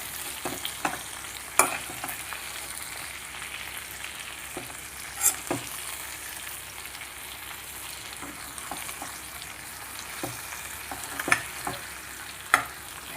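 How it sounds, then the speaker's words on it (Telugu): Spices and salt being stirred through stuffed eggplant curry in a pan, with a steady low sizzle broken by scattered clinks and scrapes of a spoon against the pan. "మొత్తము కలిసేలా కలుపుకోవాలి"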